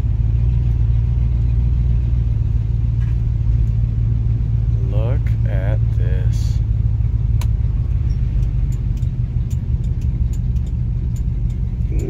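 Old Oldsmobile car with a newly fitted transmission and a badly hanging exhaust, driving along with a steady low engine rumble and road noise throughout, while a person talks excitedly over it.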